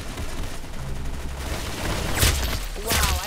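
Bursts of peppermint rifle fire in the Roblox shooter Arsenal, a semi-automatic gun firing multiple shots per click: rapid, close volleys of cracks, with loud sharp bursts near the end.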